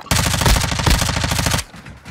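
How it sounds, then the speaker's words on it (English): Automatic gunfire in a multiplayer shooter video game rattles out in one loud, rapid, continuous burst lasting about a second and a half, then cuts off abruptly. "I've shot at him"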